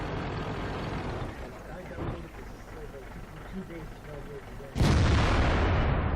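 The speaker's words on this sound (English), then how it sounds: "apparently a box in front of a Panzer IV stops a 155mm howitzer shell" Artillery fire from a 155mm howitzer in a tank video game, a steady rumbling battlefield backdrop with a loud heavy blast near the end, while a person talks over it.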